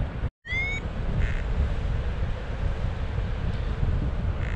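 Wind during a paragliding flight, a constant low rumbling buffet across the microphone, broken by a brief dropout and a short high electronic chirp near the start.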